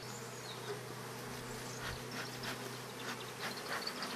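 A dense, steady hum of about 8,000 to 9,000 honey bees buzzing in a hive close by, a constant droning drone with faint higher whines drifting through.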